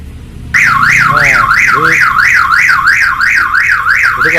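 A Toyota Kijang Kapsul car alarm wails loudly and close, a steady rising-and-falling siren cycling rapidly after an abrupt start, triggered because a door was left not fully shut.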